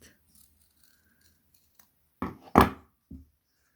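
Scissors snip through crochet yarn fabric for a face mask, three short crisp cuts in a quiet room, the middle one loudest, with a faint snip just before them.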